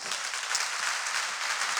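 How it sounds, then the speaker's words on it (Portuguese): A church congregation applauds in a brief, dense burst of many hands clapping together, steady and fairly loud throughout. "Vamos dar uma salva de palmas?"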